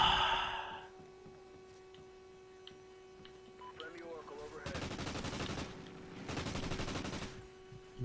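Gunfire in the online shooter Call of Duty: Ghosts, two dense bursts of rapid automatic fire each lasting over a second, loud and close, following quieter game effects and a brief voice.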